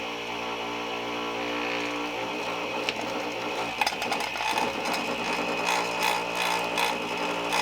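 A Foley Belsaw chainsaw sharpener's grinder hums steadily with a constant motor whine, then the wheel touches a chain tooth, adding brief gritty grinding bursts over the drone; no talk.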